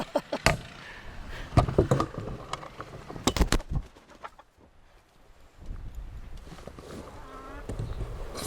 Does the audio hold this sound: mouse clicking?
no